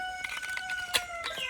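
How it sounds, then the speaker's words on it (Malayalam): A rooster crows in one drawn-out call with some clucking around it, fairly faint and a little distant. "കോഴിയൊക്കെ കൂകുന്ന"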